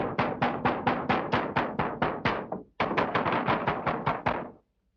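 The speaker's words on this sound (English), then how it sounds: "We'll just pound on the door until somebody hears us." Rapid pounding on a garage door, two long bursts of loud, evenly spaced knocks separated by a brief pause, close and alone with no talk.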